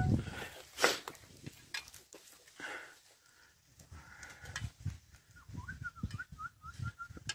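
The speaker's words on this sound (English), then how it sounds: "Now you hear that whistling." A person whistles in a short rising series of notes to signal a team of oxen pulling a plough to stop, heard over soft field sounds and faint footsteps.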